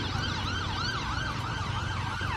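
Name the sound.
ambulance siren passing by on a road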